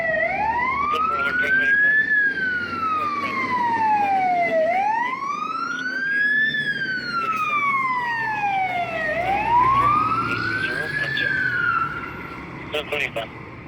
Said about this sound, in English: Yep, it's the fire truck.